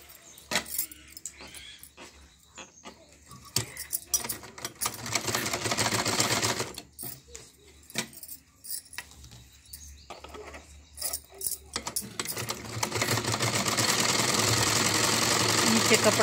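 A sewing machine stitches a men's kurta in short, intermittent whirring bursts, then runs steadily for a longer stretch at the end. Someone talks between the runs.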